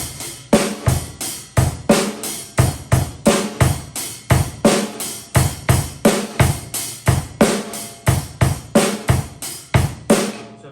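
Drum kit plays a steady groove with washy open hi-hat strokes, a softened kick and little rim shot, evenly repeating beats loud and close for about eleven seconds with no talking.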